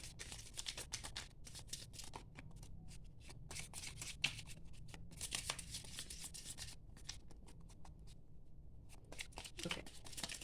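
Tarot cards are shuffled continuously up close, a dense flurry of soft riffling and flicking that keeps going with brief pauses and never gives way to speech.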